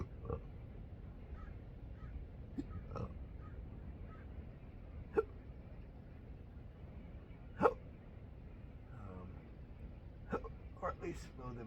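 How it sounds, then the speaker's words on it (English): A person with hiccups and burping lets out several short sharp hiccup and burp sounds scattered irregularly over steady outdoor background noise along a coastline at sunrise, with talking in between. "Here comes the burps."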